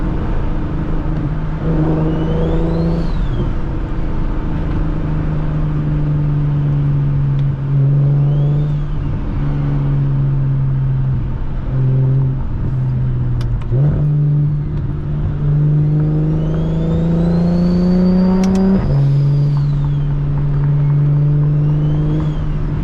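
A single-turbo BMW 335is engine revs loudly and continuously, its pitch climbing and dropping sharply through a series of downshifts on a night drive, heard from inside the car with no talking.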